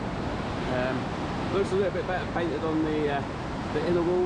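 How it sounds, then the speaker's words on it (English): The Gananoque River rushes steadily beside a railway bridge, a broad constant wash of water close by that runs under someone talking throughout. "So you can probably hear the river,"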